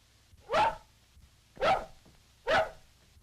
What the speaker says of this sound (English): Nice little dog.